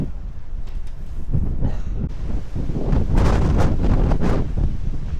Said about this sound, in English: So today is incredibly windy